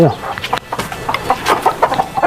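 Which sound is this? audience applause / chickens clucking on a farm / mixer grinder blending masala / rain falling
chickens clucking on a farm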